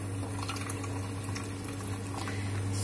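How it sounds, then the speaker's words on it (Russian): Half a litre of milk poured from a one-litre carton into a saucepan for a lasagna sauce, giving a steady, fairly quiet liquid pour with soft trickling over a constant low kitchen hum. "В это время я в сотельник наливаю пол-литра молока."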